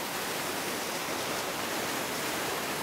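A waterfall in snowy mountain country rushes in a steady, dense hiss of falling water, loud and close, with no other sounds breaking through.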